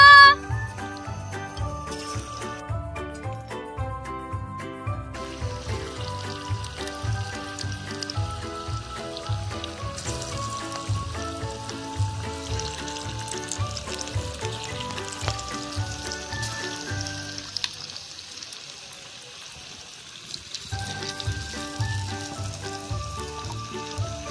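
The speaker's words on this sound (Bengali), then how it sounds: "তেলটা গরম হয়ে গেলে একটা একটা করে এঁচড়গুলো আমরা ওর মধ্যে ছেড়ে দেব।" Jackfruit pakoras frying in hot oil give a steady crackling sizzle that runs under rhythmic background music for most of the stretch, then briefly thins out before resuming.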